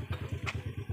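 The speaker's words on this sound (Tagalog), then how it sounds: "Oh, bilisan nyo, may dadang motor." A motorcycle engine chugging close by, its low pulsing beat repeating rhythmically with a brief rattling clatter partway through, loud and unaccompanied by speech.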